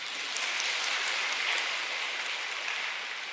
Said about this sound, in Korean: 이럴 때 박수 한번 치는 거예요.